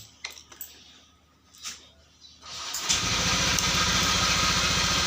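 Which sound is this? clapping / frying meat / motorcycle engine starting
motorcycle engine starting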